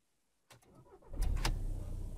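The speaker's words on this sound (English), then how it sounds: "Restart the car." A Volkswagen engine cranks briefly and catches, then settles into a steady low rumble at close range.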